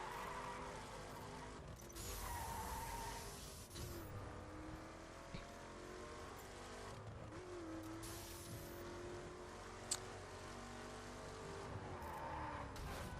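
Car driving in The Crew racing game, engine droning steadily with a couple of tire skids from handbrake turns, the game sound running continuously at moderate level.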